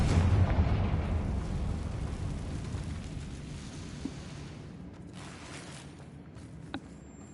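A Confringo fire blast spell in Hogwarts Legacy, a heavy booming explosion that starts loud and rolls off into a long fading rumble, with a couple of small pops near the end.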